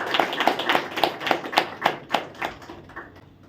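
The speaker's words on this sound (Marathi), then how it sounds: "टाळ्या वाजून देवाचे आभार मानू आपण" A church congregation claps together in a Sunday service, a run of fairly steady, close hand claps that thin out and fade toward the end, with no talk over them.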